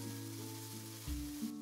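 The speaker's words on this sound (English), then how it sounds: "Add the marinated pork and stir fry for 3 minutes." Marinated pork sizzles in a hot pan with minced garlic and diced shallots as it is stir fried, a steady close frying hiss with a louder burst of sizzle partway through, no voices.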